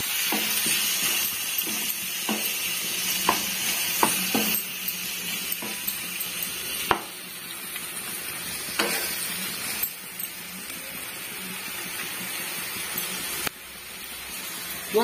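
A potato and brinjal curry fries steadily while salt is stirred in, with a continuous sizzle broken by scattered scraping clicks of a spoon against the pan, close and fairly loud.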